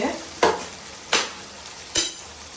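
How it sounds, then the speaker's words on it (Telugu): Onions and tomato frying in a pan for goat leg curry, a soft constant sizzle punctuated by three sharp stirring scrapes at close range, with no voice. "ఇప్పుడైతే ఈ టమాటాలు కూడా వేసుకుందాం ఒక్కటే టమాటా వేసుకున్నాను నేను అయితే ఇలా కలుపుకున్నాం"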